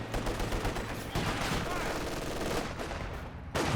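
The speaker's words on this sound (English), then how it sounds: "MG holding the line here" Rapid machine gun fire in the real-time strategy game Company of Heroes 2, dense rattling bursts that run nearly continuously, mixed with other battle gunfire and no voices.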